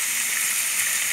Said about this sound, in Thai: ชุบแป้งทอดแล้วหั่นกิน